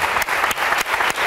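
Studio audience at a Portuguese televised health marathon applauds warmly, a continuous patter of many hands with rhythmic surges, brief and fairly close.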